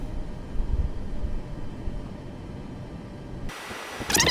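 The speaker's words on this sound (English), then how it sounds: "Parking brake off, and we are taxiing." A Boeing 737 MAX taxiing in Microsoft Flight Simulator 2024 gives off a steady, broad engine rumble and hiss, with a brighter burst of noise near the end.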